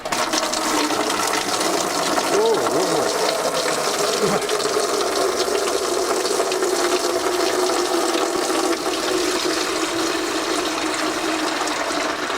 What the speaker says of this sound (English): Antifreeze shower.